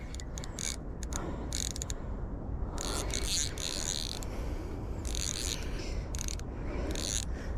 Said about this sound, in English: Tighten that drag just a touch.